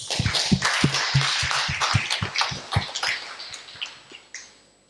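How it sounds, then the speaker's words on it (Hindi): An audience at a refresher course on Vedic science gives a round of applause for a team, a dense wash of many hands clapping nearby that thins out and fades to scattered claps at the end. "उस पूरी टीम के सम्मान में एक बार ताली बजा लेते हैं"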